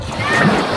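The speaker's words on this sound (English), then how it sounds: "Wait for the water to splash you again." Seawater at a beach in Turks and Caicos splashes over a person in a loud, close wash of rushing spray that lasts the whole moment, with faint voices in the background.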